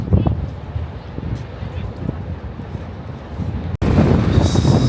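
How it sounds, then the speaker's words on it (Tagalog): Strong outdoor wind in Croatia buffets the microphone with a steady low rumble and gusty roar that grows louder near the end, while people talk over it. "Sobrang lakas ng hangin guys."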